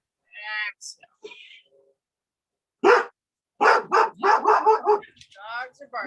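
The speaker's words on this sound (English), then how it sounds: "Dogs are barking." Dogs bark in short sharp bursts near a deck during an outdoor yoga class, several rapid barks clustered together with gaps of quiet between them, fairly close and loud.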